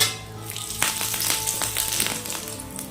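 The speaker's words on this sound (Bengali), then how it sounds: "এখন দিয়ে দিচ্ছি শুকনো লঙ্কা 2টো, আর দিয়ে দিচ্ছি তেজপাতা" Dried red chillies and bay leaves hit hot oil for a Bengali dal tempering, giving a steady close sizzle and crackle with a few sharper pops and spatters throughout, no voices.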